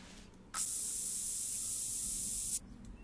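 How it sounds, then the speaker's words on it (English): A scent spray is applied in the hunting game theHunter: Call of the Wild: one close, steady hiss lasting about two seconds, starting and stopping sharply against a quiet background. "I'm going to put a bit of spray on."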